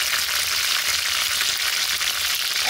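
Cut okra fries in hot oil, a loud, dense, continuous sizzle close by with no voices.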